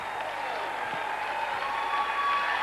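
Applause from a television studio audience for a singer, a steady dense wash of clapping at moderate level with faint crowd murmur underneath.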